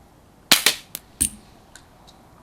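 Crosman PSM45 BB pistol shooting at a can: two sharp close pops in quick succession, then a lighter tick and another crisp snap, followed by faint metallic plinks, with no talking.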